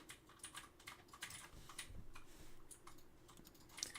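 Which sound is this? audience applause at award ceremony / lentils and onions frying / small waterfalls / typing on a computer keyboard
typing on a computer keyboard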